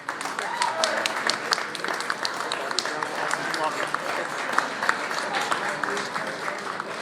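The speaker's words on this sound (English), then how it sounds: "how about a nice round of applause for Albert?" A crowd at a wedding celebration claps steadily throughout, an even patter of applause with faint voices mixed in.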